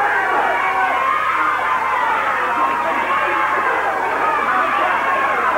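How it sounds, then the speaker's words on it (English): A loud wrestling arena crowd keeps up continuous dense roaring and chanting at a live match, a steady wall of massed voices with no gaps. "I want all these morons over here to stop chanting Doug, Doug"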